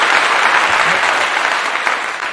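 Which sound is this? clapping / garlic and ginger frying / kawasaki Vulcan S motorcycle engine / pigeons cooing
clapping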